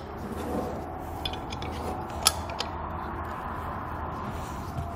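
A half inch wrench tightens an air fitting on Firestone Ride-Rite air helper springs, giving faint creaky mechanical clicks and one sharper metallic tick, close and quiet with no talk.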